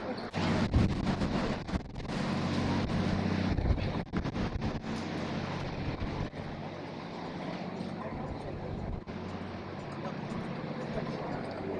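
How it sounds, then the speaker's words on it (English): Steady wind buffeting the microphone on the open deck of a cruise ship bound for Alaska, a continuous loud rumbling roar with occasional gusts and faint voices underneath. "With the wind blowing in our hair."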